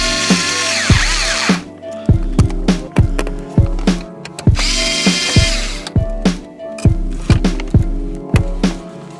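Cordless power drill backing screws out of the radio dash trim on a 2005-2009 Subaru Legacy/Outback, loud and close, with repeated whirring bursts separated by sharp clicks and short pauses, no talking.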